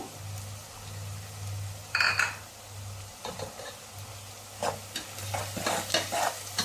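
Red chilli, coriander and turmeric powders fry in oil for a tomato chutney, giving a soft sizzle under a low steady hum, with a few sharp spoon-stirring scrapes against the pan.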